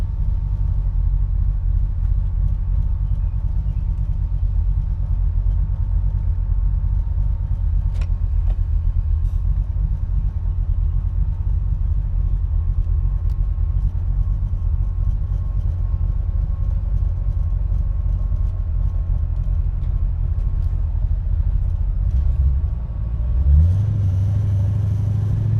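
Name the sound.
1983 Ford Mustang Foxbody 5.0 engine idling rough while cold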